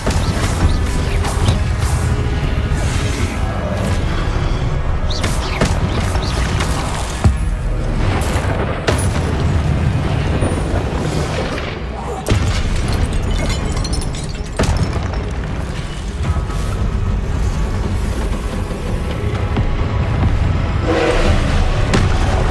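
Repeated Incendio fire-spell blasts in Hogwarts Legacy, loud booming bursts layered over continuous clattering game effects and rumble, with no voices.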